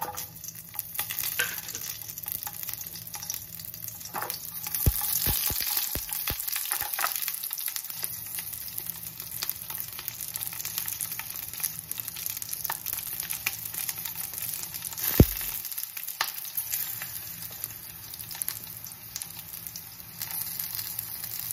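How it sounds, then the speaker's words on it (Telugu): Five green chillies fry in a little oil in a pan, giving a steady, soft sizzle throughout, broken by occasional sharper clinks and scrapes of stirring. "కొద్దిగా ఆయిల్ వేసుకుందాము. ఇందులో పచ్చిమిర్చి వేసుకుందాము."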